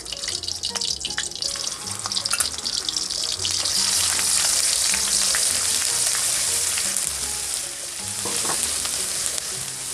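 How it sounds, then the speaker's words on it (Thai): Constant crackling sizzle of chilies dry-roasting in a pan over low heat, with occasional scraping and stirring clatter close up, no voices. "คั่วพริกลงไปก่อนนะครับ"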